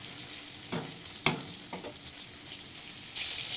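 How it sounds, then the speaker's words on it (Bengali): Tomatoes and onions fry in a pan with a steady soft sizzle, broken by a few light stirring scrapes, close and quiet with no talking. "এবার দিয়ে দেবো টমেটো, পেঁয়াজের সঙ্গে টমেটোটা আর একটু ভেজে নেব।"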